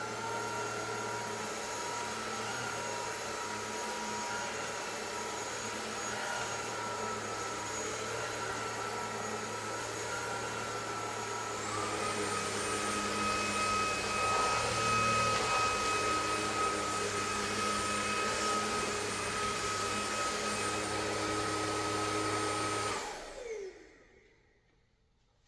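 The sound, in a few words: cordless vacuum cleaner running on a rug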